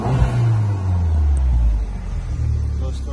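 A 1.4-litre Abarth Punto Evo Supersport engine revs with a low, steady rumble and audible induction noise from inside the car, holding close and loud for a few seconds before easing slightly.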